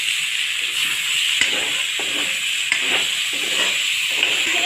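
Freshly added chopped tomatoes fry in a hot pan of browned onions, giving a continuous close hiss and sizzle with a few light spatula taps and stirring scrapes.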